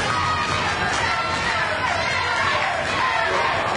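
Wrestling crowd at a W3L Wrestling Showdown event cheering for Jimmy Meadows in his match against The Scapegoat, a loud, continuous roar of shouts and cheers filling the hall, with a commentator's voice beneath it.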